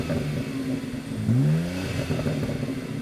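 A BMW M car engine, the same unit as in another M model, revs up once in a rising sweep over a steady idle, close and loud, with no talk.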